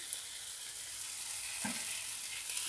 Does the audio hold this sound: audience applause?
no